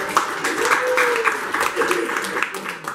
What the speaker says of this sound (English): Round of applause for Norma.